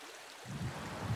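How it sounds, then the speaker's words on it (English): Water runs steadily through the shallow channels of a braided river in New Zealand, a soft continuous wash with a low rumble that swells after a moment, outdoors and with no voices. "An active area of the braided river system where there's lots of different channels for feeding, lots of water moving through."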